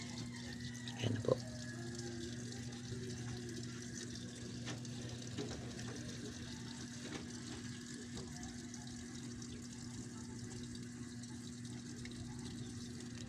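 A Samsung Ecobubble digital inverter washing machine fills with soapy water: a steady, faint flow of running water under a constant low machine hum, with one brief knock near the start.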